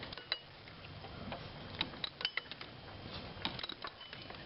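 A 3/8 inch ratchet with a 15 mm socket on a universal adapter loosens an alternator bolt on a 3.0L Caravan, faint close clicking of the pawl in short bursts over quiet workshop background.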